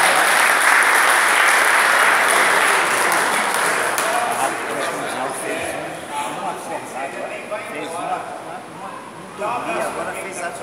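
A conference audience bursts into loud applause, which fades to scattered clapping under talk.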